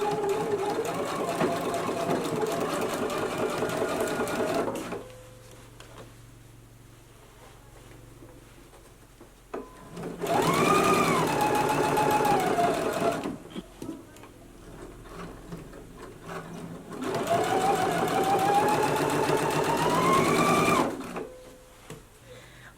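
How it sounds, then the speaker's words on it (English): A sewing machine stitches straight across a pants waistband seam, running in three long bursts of about five seconds each with quiet pauses between them, loud and close. "I'm just going to stitch all the way across, making sure that I back stitch at the beginning of and the end"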